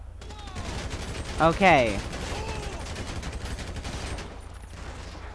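Gunfire in the video game GTA 5 crackles as a continuous rattle of rapid shots under and between speech, with a short louder burst partway through.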